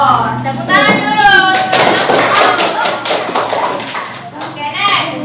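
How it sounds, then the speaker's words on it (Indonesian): Fifth-grade schoolchildren clap their hands together in a classroom, a burst of brisk claps mixed with children's chanting voices and classroom chatter. "Tepuk tangan dulu."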